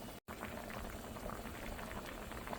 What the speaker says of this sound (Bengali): মাছগুলো সব দিয়ে দিয়েছি এখন মাছটা সিদ্ধ হবে